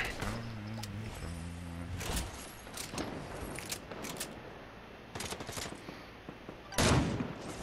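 Bursts of gunfire from the video game Fortnite crackle in quick clusters over a steady game backdrop, with a louder volley near the end.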